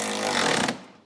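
A cordless drill drives a bolt into a rollbar in an NB Miata, a close, loud, rattling burst lasting under a second that cuts off abruptly.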